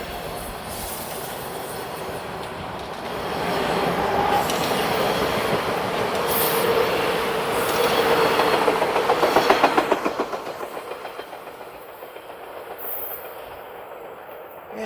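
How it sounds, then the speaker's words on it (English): Toronto subway train on the westbound Kipling line at Main Street station, a steady rumbling roll with wheel squeal, rhythmic clacking building as it passes, then fading and thinning out into quiet. "There's a westbound train heading all the way to Kipling."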